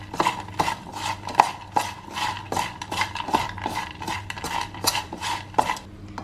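Bitter gourd being mixed with turmeric powder for a fried salad makes a series of rhythmic clinks and scraping strokes, close and moderately loud, repeating every half second or so.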